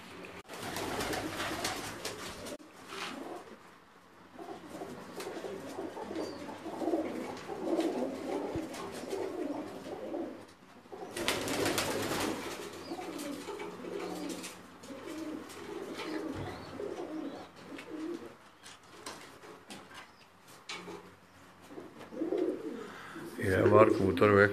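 Pigeons coo on a rooftop in Kharian, a steady murmur of soft, overlapping calls over wind and background noise, with occasional voices nearby.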